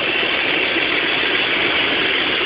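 A car engine running on a GEET fuel system, with an external air feed through a throttle body, runs steadily, a constant dense hiss-like hum with no variation over a couple of seconds.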